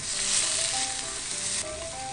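Spinach with sesame stir-fried in a frying pan, a brief steady sizzle with faint scraping stirs close by.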